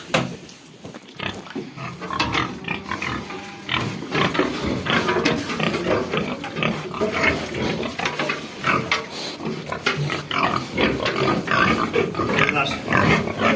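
Pigs kept for fattening on a household farm grunt and squeal repeatedly up close, a busy, continuous chorus of snorts with people talking faintly in the background.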